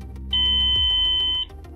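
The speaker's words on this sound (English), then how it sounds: "When your target is reached, the device will show a steady red light with a high-pitched," A torque wrench's electronic indicator gives a steady, high-pitched continuous beep of about one second on reaching target torque, loud and alone against faint background noise.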